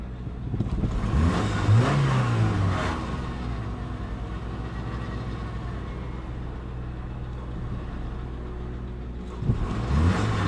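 A 2006 Subaru Legacy with 89,000 miles, its engine idling steadily with a rev rising and falling near the start and another brief rev at the end, fairly close.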